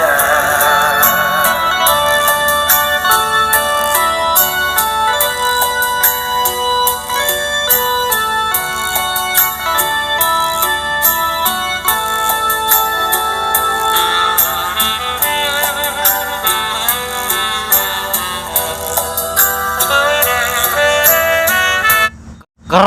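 Full music playback through an 8-inch horn midrange driver speaker, a bright and dense mix with sung melody and steady beat, loud and continuous until it cuts off abruptly.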